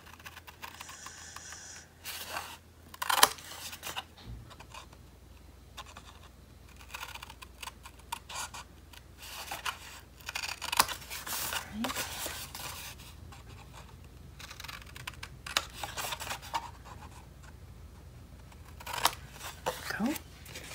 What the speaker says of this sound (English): Just cutting the corners off the bottoms.